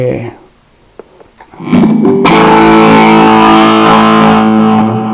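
Electric guitar runs through a Rocktron Chameleon 2000 preset for a 90s-style tone with heavy distortion and reverb: a near-silent start with a few faint picked notes, then a loud, sustained distorted chord rings out and holds.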